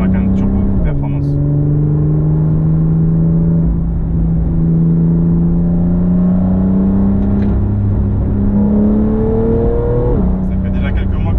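A Porsche Macan Turbo Performance engine hums loudly and steadily, its pitch climbing through two gear shifts, with brief clicks and knocks, while a voice talks over it.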